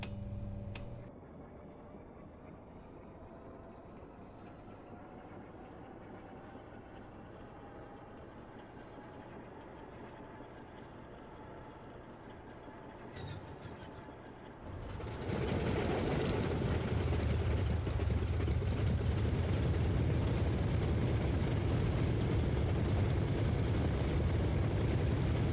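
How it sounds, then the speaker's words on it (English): A P-47D-28 Thunderbolt's engine starts in a flight simulator: a faint whir builds for a while, then the engine catches and settles into a loud, steady low roar. "The sequence will automatically start up the engine"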